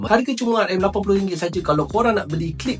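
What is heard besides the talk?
None of the usual background noises is heard.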